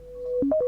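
The iPhone's default alarm tone, a short run of clean, bright electronic tones that step up and down in a quick melodic pattern. It plays alone and fairly close, over a steady low drone, with no one speaking.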